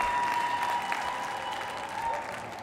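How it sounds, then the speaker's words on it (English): A large crowd of delegates at a national teachers' association convention in Washington claps steadily in a standing ovation, dense and sustained throughout, with faint cheering mixed in. "you get a standing ovation from a crowd like this and I haven't even talked yet"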